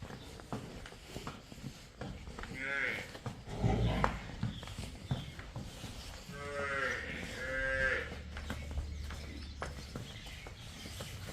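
Buffalo on a farm with buffaloes for sale give several deep, drawn-out moos, some near and some farther off, mixed with people talking, footsteps and general farmyard noise.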